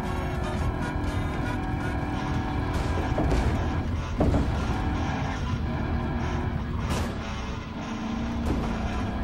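A car driven through a chaotic Battlefield Hardline match rumbles steadily with engine noise, punctuated by a few heavy thuds and booms, without talk.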